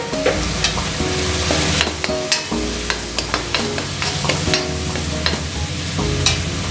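Cashews and peanuts roasting in a spiced masala in a pan, with a continuous sizzle broken by repeated sharp scrapes and knocks of a spoon stirring, close and fairly loud, no talk.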